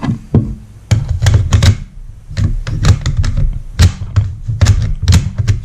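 A magazine is worked into an M1A/M14 rifle with the bolt locked back, producing a series of sharp metallic knocks, clacks and taps in irregular clusters, close and fairly loud.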